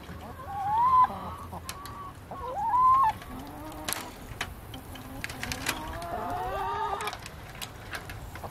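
Backyard chickens cluck and squawk near the tunnel leading to a side yard, with several loud bursts early on, then softer scattered clucks and calls.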